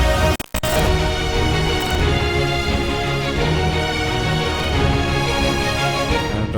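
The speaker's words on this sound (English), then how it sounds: "And now the double basses are going to be lower." Orchestral double basses played back in FL Studio with the volume lowered, a dense sustained string texture with steady low notes running throughout, with a brief dropout near the start and no talking.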